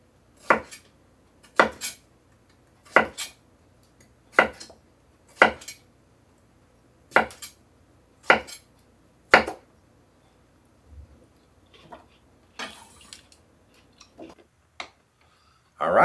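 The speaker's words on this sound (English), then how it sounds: "cut them into chunks" A knife chops cantaloupe melon into chunks on a cutting board, about eight sharp, evenly spaced knocks followed by a few softer, scattered taps and clatters, close and clear with no talk.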